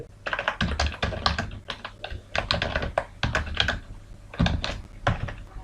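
Rapid, uneven clatter of a computer keyboard, keys tapped close and fairly loud in quick bursts with short pauses, as C++ code comments are typed, with no voice over it.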